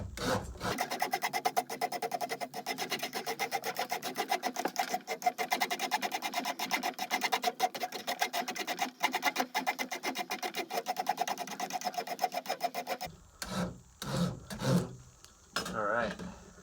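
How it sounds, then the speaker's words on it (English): A hand rasp shapes a wooden handle toward its final profile in a steady, rhythmic filing stroke held close for about thirteen seconds, then a few separate scrapes and knocks follow. "Getting pretty close here to the actual profile shape of the handle. So I'm gonna stop on this part with this rasp"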